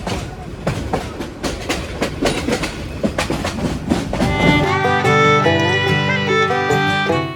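The Agnibina Express, an intercity train running from Dhaka to Jamalpur, clatters along the rails in a rapid rhythmic clickety-clack heard from on board. A rising tonal drone and brighter overtones join in partway through.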